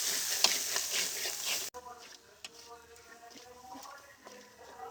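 Spice paste with salt and turmeric sautés in a pan for a desi chicken curry, giving a loud hiss that drops suddenly to a quieter sizzle with soft stirring scrapes close by.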